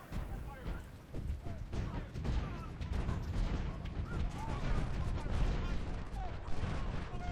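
Sniper and rifle fire crackles in dense, irregular volleys across a Civil War battlefield at Second Bull Run in Ultimate General: Civil War, a continuous din of sharp shots and rumbling reports with a voice speaking over it.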